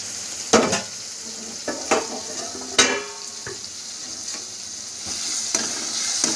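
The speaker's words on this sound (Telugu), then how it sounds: "ఒకసారి బాగా కలుపుకోవాలి" Chicken semi gravy being stirred in a pan over heat: a soft steady sizzle under several distinct scrapes and clanks of a spoon against the pan, close and moderately loud.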